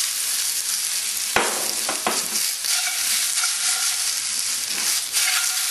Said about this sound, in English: now I'm going to start stir-frying my shrimp